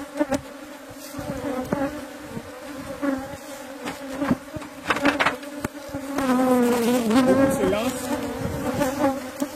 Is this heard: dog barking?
no